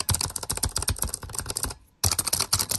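Rapid, clattery typing on a computer keyboard, close and busy, stopping for a brief moment before resuming just as fast.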